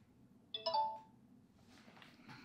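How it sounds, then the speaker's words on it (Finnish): A phone app's message notification plays once as a short bright two-note chime, fairly close and clear, followed by faint rustling and handling noise. "kännykkästä piippaa aina kun tulee sitten joku viesti"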